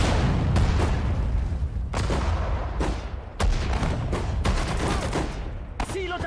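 Infantry rifle and machine-gun fire in the WWII strategy game Sudden Strike 4, a dense continuous fusillade of rapid shots with louder bursts and booms throughout, close and loud with no speech over it.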